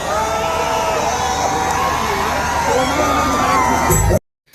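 A loud, dense crowd shouting and cheering continuously, voices overlapping in a steady roar, cutting off abruptly near the end.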